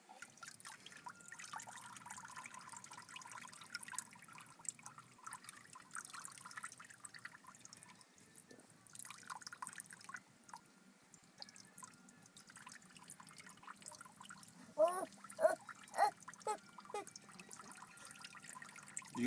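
Water trickles and drips steadily beside a pool, a soft continuous flow with a quick run of distinct drips or splashes near the end.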